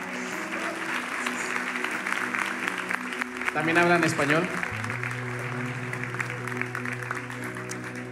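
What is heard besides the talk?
audience applause for the pastor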